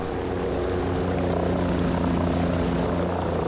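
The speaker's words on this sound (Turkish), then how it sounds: "Helikopter." A helicopter in the video game Ghost Recon Breakpoint gives off a steady, loud rotor and engine drone that stays even for the whole stretch, with no talk over it.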